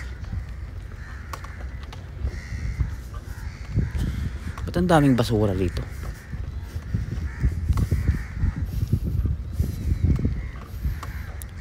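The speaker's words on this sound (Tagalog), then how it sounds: "Itong uwak na to, may anak ba to? Ang ingay." A single harsh crow caw cuts through outdoor noise while a person talks nearby.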